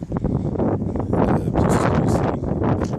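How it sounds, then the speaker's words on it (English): Strong wind blows and buffets close to the microphone in loud, rumbling gusts, with no talking. "It is windy out here."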